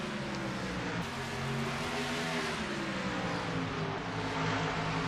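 Race car engines in a sim racing game, a steady droning whine of several cars running together at a moderate, even level without pause.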